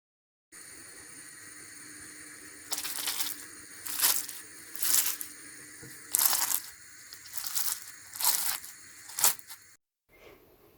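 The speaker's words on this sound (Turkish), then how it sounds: "Şimdi ben susuyorum ve lütfen baklavanın sesine kulak verin diyorum." Freshly baked crispy Turkish baklava crackles in bursts, a series of about seven loud, close crunchy crackles spaced a second or so apart over a quiet hissing background, with no talking.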